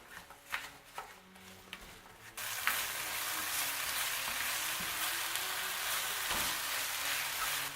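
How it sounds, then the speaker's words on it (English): Apple pieces tipped into about three tablespoons of melted butter in a skillet for an apple skillet cake: a few soft clatters, then a sudden loud, continuous sizzle with scraping stirs running through it, close and with no talk. "3 tablespoons of butter. All right, now, put the apples in."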